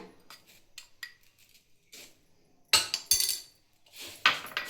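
Spoon stirring kothimbir chivda, a crisp coriander snack mixture with added masala, in a pan: light scattered scrapes early, then several sharp metallic clinks and rattles of spoon against the pan, close and alone.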